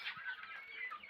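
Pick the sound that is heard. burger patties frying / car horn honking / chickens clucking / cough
chickens clucking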